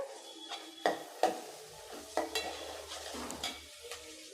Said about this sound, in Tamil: இது எல்லாமே சேர்த்து நல்லா வதங்கட்டும்.